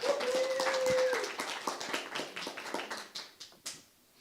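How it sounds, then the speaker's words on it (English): Scattered applause from a gathered congregation at a spiritual talk with live music, a steady run of separate hand claps following a brief sustained tone, thinning out toward the end. "one more round of applause"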